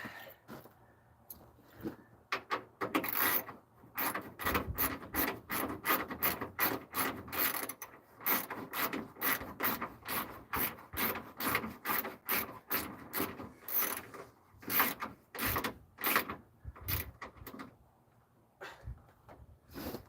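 Ratchet clicking steadily in quick bursts as bolts are driven in to reattach a car radiator on a 1982 Ford Mustang, close and loud, with brief pauses between runs of rapid clicks.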